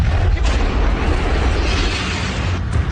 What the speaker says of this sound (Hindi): धमाका भी होता है, धुआं भी निकलता है